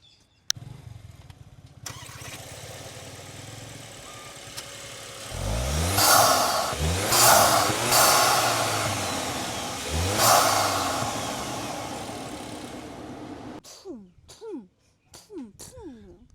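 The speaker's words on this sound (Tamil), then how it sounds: "வண்டி உனக்கு ஸ்டார்ட் பண்ணி காமிக்கணுமா" A new Skoda Kodiaq SUV with a 2.0 litre turbo engine cranks and starts with a few loud revving surges, then settles into a quieter idle, with someone talking nearby before and after.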